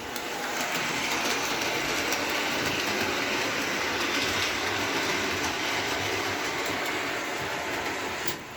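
An MTH K4 model steam locomotive runs forward with a loud, steady mechanical whir and rapid clicking of wheels on track, continuous throughout.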